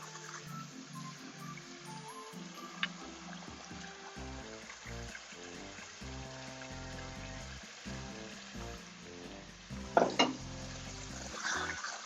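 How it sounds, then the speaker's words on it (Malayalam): Fried duck pieces go into a Kuttanad-style duck mappas gravy and are stirred, a quiet sizzle and stirring under background music, with a few louder pot clanks near the end. "താറാവ് കഷ്ണങ്ങൾ അതിലേക്ക് ഇടാം"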